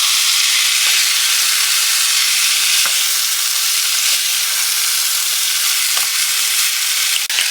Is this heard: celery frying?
yes